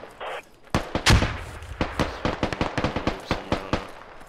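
A string of sharp gunshots cracks out in the game Squad, one heavy near blast among them, then a fast irregular run of single shots at varying distances.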